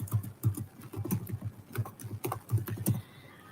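Rapid, irregular keystrokes clatter on a computer keyboard while code is written in a quiet room, clicks close and distinct with short pauses between bursts.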